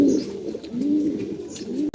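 Racing pigeons coo softly and continuously in a loft for two seconds, a low murmuring warble close by with no voices over it.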